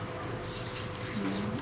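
Water poured or run from a tap during homemade kimchi preparation, a steady splashing stream throughout with a brief brighter tone near the end, fairly close and moderately loud.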